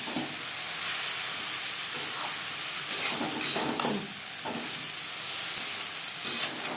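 Ridge gourd and potato with spices stir-frying over high to medium flame, a loud continuous hissing sizzle with occasional scraping stirs and clatter of the spatula, no voices.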